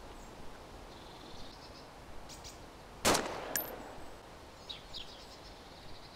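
An AK101 rifle in a video game fires one sharp, loud report that stands out against a quiet outdoor ambience with faint bird-like chirps, followed by a brief metallic ring.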